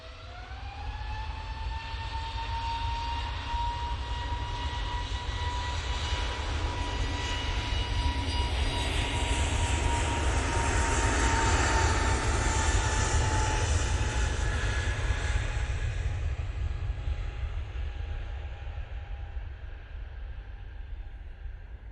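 An EasyJet airliner takes off, a loud, steady jet engine roar with a sustained whining tone that swells to a peak midway and slowly fades, with no talk over it.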